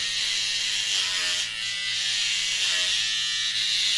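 An electric hair clipper fitted with a 9 mm guard cuts hair during a home haircut. It gives a close, continuous high buzz, and the tone changes slightly with each pass through the hair.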